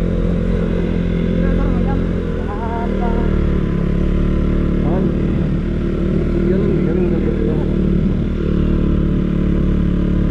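A KTM Duke 200 motorcycle engine runs steadily while riding on a rural hill road, a continuous low rumble with road clatter throughout, and people talk over it.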